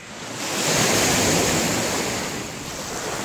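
Ocean waves roll onto the shore at Port Bruce on a foggy morning, a loud, broad wash of surf that swells and then slowly recedes. Wind rumble hits the microphone, and no one is speaking.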